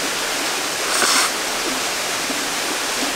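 Mountain valley stream water flowing over rocks, a steady broad rush heard close and alone, with a brief brighter splash about a second in.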